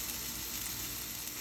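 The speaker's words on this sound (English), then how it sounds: "We've got the sausage in the pan under medium-high heat." Sausage frying in a pan over medium-high heat gives a steady, dense sizzle that holds evenly and close throughout, with no talk over it.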